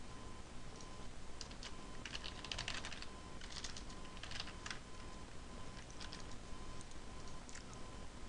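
Steady typing on a computer keyboard, a fast, irregular run of light clicks and taps at a quiet, even level throughout, with no voice over it.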